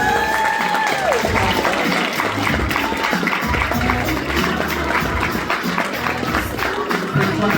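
Audience applause at an awards event, dense sustained clapping from a crowd, loud and even, with a voice speaking over the opening.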